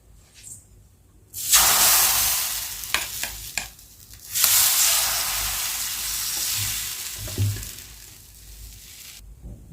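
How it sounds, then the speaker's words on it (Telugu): Gram flour dosa batter with onion and green chili hits a hot pan with a sudden loud sizzle, then hisses steadily as it is spread, flaring again midway before fading toward quiet. "దోశ పేనం అనేది పెట్టుకుని ఇప్పుడు దోశ వేసుకుందాం మనము"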